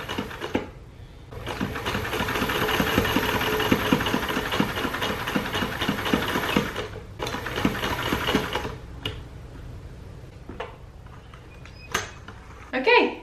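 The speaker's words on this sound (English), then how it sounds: "now I'm going to try to sew along this line and see if that works." A sewing machine runs along a seam on a thrifted shirt, a close steady mechanical whirring with rapid needle clatter for several seconds, then stopping, followed by quieter handling noises.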